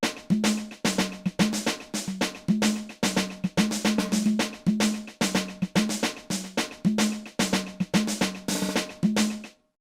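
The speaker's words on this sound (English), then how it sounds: "It's like a slap conga, like that one." A programmed slap conga pattern in a sebene-style beat plays in a quick repeating rhythm, each sharp slap ringing briefly before the next, loud and alone with no talk.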